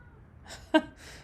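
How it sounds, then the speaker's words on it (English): A single short meow from a cat behind a closed door, sounding slightly muffled, with faint breathy noise just before and after it. "he's meowing under the door"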